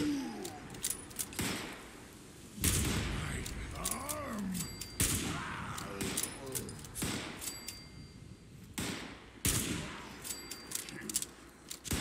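Sniper rifle shots ring out in Fallout 76 while fighting super mutants, several loud close cracks spaced a few seconds apart over game ambience, with creature growls in between.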